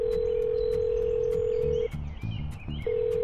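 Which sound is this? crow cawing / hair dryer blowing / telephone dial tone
telephone dial tone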